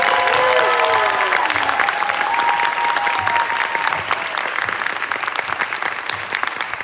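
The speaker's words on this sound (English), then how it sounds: "One more round of applause for the lawyers today" An audience claps for the lawyers at an immigrant-rights protector training session, a full, continuous round of applause that holds steady, with a few brief vocal tones rising over it at the start.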